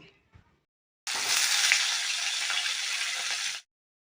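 Potatoes hit hot oil seasoned with nigella seeds and turmeric, setting off a sudden loud, continuous sizzle that holds steady for a few seconds, then stops abruptly.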